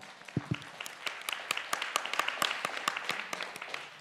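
Audience applause at a gender equality forum in Korea, a steady wash of many hands clapping for about four seconds, moderately loud and even, with no talking over it.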